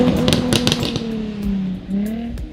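A Jaguar F-Type Coupe with a V6 engine gives off a rasping exhaust note, with sharp crackles and pops up front, then a steady drone whose pitch rises and falls as the revs change.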